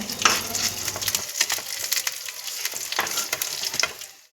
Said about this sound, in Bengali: এবার আমি ওই তেলের মধ্যেই শুকনো লঙ্কা একটু তেজপাতা গোটা গরম মশলা আর গোটা জিরে দিয়ে দিলাম